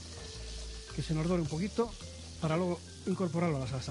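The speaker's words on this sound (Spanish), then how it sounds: "freímos el bacalao. Que se nos dore un poquito." Cod sizzling as it fries in a pan for a saffron cod dish, a steady low frying hiss running under someone talking throughout.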